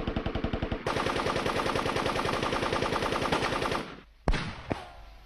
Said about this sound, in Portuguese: Parem de atirar!